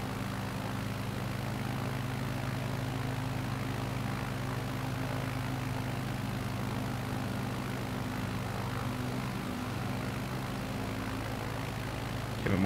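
Propeller aircraft engine in Microsoft Flight Simulator, a steady loud droning hum with a low throb, continuous throughout and swelling slightly at the very end, no talk over it.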